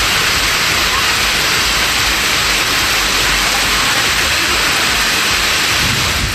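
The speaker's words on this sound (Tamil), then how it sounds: "வெளுத்து வாங்கிய மழையால் சாலைகளில் மழைநீர் பெருக்கெடுத்த காட்சிதான் இது" Heavy rain pours down on flooded roads in Kulithalai, Karur district, a dense, steady roar of rushing water that stays loud and unbroken throughout.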